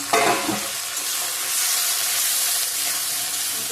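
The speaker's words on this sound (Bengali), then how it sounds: "আলুগুলো দিয়ে দেবো দিয়ে ভালো করে ভেজে নেব" Potatoes frying in oil for a Bengali lunch dish, a loud continuous sizzle with stirring clatter near the start, close and steady with no talk.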